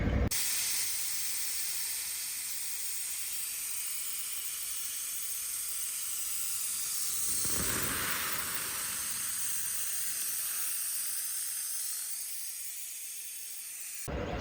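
A WORKPRO air-powered vacuum brake bleeder runs on shop air, giving a steady, even hiss that lasts the whole time, with a brief louder surge partway through as its ball valve opens.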